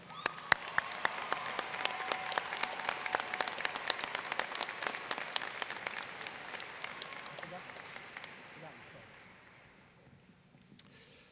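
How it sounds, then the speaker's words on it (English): A commencement audience at a college graduation ceremony breaks into sustained applause, dense clapping that gradually fades over several seconds and ends with a single loud clap. "Please join me in applauding these special guests."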